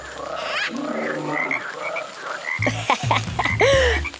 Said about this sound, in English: I think that frog likes our song